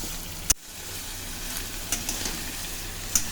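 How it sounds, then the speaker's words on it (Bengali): Onions and green chillies fry in a pan with a steady soft sizzle, broken by a few sharp clicks of a utensil, the first one loud and close. "পেঁয়াজগুলো ভাজা ভাজা হচ্ছে"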